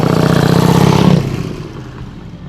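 A Vincati motorcycle, a Vincent 1000cc V-twin engine set in a 1973 Ducati GT twin chassis, runs with a loud, throbbing engine note close by, then eases off and fades away.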